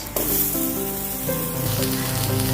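Chopped onion drops into hot oil alongside aubergine, giving a close, continuous sizzle under a sustained tonal hum that resembles music.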